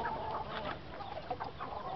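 Texas gamefowl chickens on a farm cluck in short, soft, repeated bursts, faint and close together.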